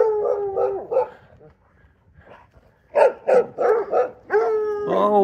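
Several dogs barking and howling up close, rapid overlapping barks in bursts with a short pause in between.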